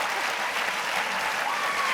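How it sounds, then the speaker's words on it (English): Audience applause at a film promotion event for Florence Foster Jenkins, a dense, steady wash of clapping from a crowd that stays loud and even for two seconds with no pauses. "I'm getting applause for being 67."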